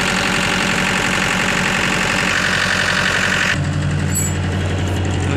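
A Mahindra DG 25 kVA diesel generator runs close by after a tappet adjustment, a loud, steady knocking idle whose tone shifts partway through.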